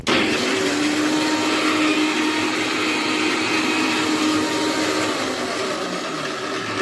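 Mixer grinder whirring steadily as it grinds garlic with garam masala spices into a paste, a loud continuous motor drone with a high-pitched whine that holds throughout without pauses.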